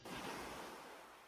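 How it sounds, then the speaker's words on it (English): Ocean tide waves played from an app give a brief rush of surf that swells in at once and then slowly fades, soft and breathy, with no voices. "So we got some ocean tide coming in."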